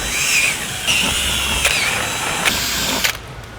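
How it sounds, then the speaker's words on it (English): A power drill with a 6mm bit bores pilot holes for a rear diffuser on a Hyundai i30 Sedan N, a close, whining motor running in several bursts before stopping. "Now that we've drilled our pilot holes"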